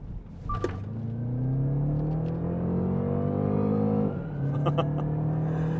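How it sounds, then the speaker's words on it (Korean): A BMW 530e plug-in hybrid's engine rumbles under a synthetic virtual engine sound, a humming tone that climbs steadily in pitch, drops abruptly, then settles again, loud and close. "이 BMW 전기차나 또는 전동화 모델에서 나는 가상 엔진음, 가상 사운드라고 하죠"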